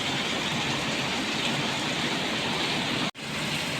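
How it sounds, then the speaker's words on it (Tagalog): A heavy downpour roars as a dense, constant wash of rain, loud and close throughout, with one very brief dropout near the end and no speech. "Lakas ang ulan."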